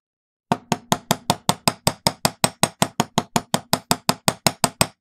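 A wire heart headpin is hammered to harden it: about two dozen crisp, evenly spaced metallic taps in a steady, quick rhythm, close and fairly loud, with no talking.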